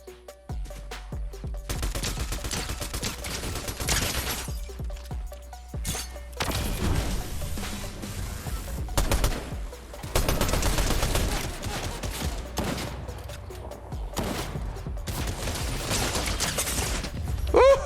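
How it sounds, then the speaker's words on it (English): Assault rifle fire from Fortnite Chapter 5 rattles in repeated loud automatic bursts with brief gaps, mixed with game impacts and mechanical clicks, and no talk over it. "I might have to use the gold version of the gun right now because these guys have snipers"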